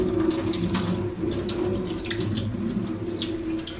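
Tap water runs steadily from a faucet as hands and wrists are held under the stream for washing, a continuous close splashing rush with no pauses.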